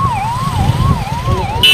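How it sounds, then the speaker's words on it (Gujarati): Wailing police siren rising and falling in steady sweeps on a busy, traffic-filled road at a Ganpati immersion procession near the Shetrunji river, loud and close over a rumble of crowd and engines. "પોલીસની ગાડી પણ આવી ગઈ છે."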